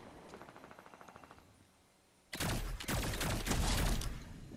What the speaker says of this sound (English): Both teams decided to shoot at me.